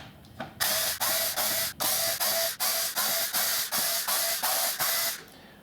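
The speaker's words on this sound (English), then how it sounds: "now I need to remove, well, all of the screws again" Screws being removed from a Pioneer DDJ-RB DJ controller with a ratcheting driver, about a dozen even, rapid clicking bursts close up in a quiet room.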